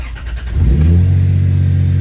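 A Toyota Supra 2JZ engine in a BMW E36 cranks briefly then catches and settles into a loud, steady idle rumble, close by.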